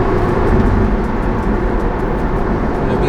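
A car engine idles and runs after a newly installed product, giving a dense, loud, steady rumble heard up close with no talking over it.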